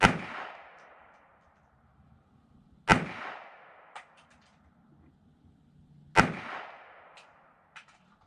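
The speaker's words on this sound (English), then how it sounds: "So I'm going to shoot these very slow and deliberate at 10 yards." Three sharp shots from a Colt 1908 Vest Pocket pistol, fired slowly and deliberately at an outdoor range, each a loud crack with a short decaying tail, spaced roughly three seconds apart with faint clinks between.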